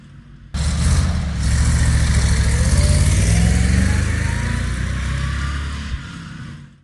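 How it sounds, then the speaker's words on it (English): A tow truck engine starts abruptly and runs loud and steady with a rising tone partway through, then fades away near the end. "Tow truck."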